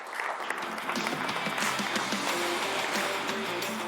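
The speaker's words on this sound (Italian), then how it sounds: "un bel applauso a voi." Applause from a crowd fills the whole stretch, dense and steady, with the clapping a little distant and no talking over it.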